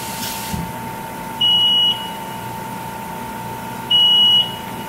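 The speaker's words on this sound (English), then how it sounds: "Now notice up here that the second one is beeping." A wet bench timer gives two short, steady electronic beeps about two and a half seconds apart, each lasting around half a second, over a faint constant hum.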